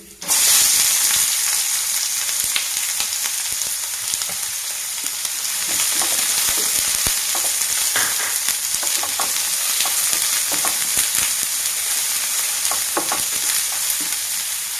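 Onion frying with neem or curry leaves in hot coconut oil for a Mangalore-style spicy fish masala: a steady, loud sizzle holds through the whole stretch, with occasional crackles and stirring scrapes and no talk.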